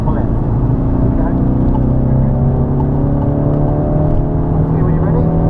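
A car accelerates on the Snetterton race track, its engine droning loud and close with steadily rising pitch, heard from inside the cabin under a constant rumble.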